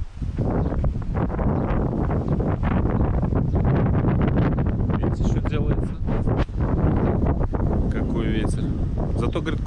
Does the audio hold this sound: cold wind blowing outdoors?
yes